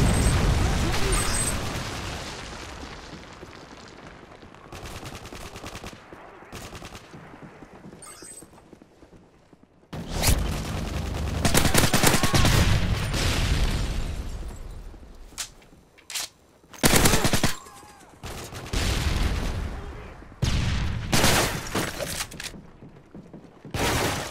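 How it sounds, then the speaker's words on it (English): A Predator missile strike and gunfire in Modern Warfare 3 multiplayer: heavy booming explosions and sharp bursts of shots, loud and close, with long rumbling decays and game voices calling out between the blasts. "Friendly Predator missile inbound."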